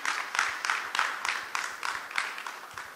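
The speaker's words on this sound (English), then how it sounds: "So I'd like you guys to give all that group a round of applause." Rhythmic clapping from a conference audience in a large hall, a steady run of slightly distant claps that carries on evenly with no talking over it.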